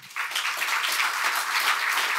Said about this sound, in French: Merci beaucoup, on vous applaudit.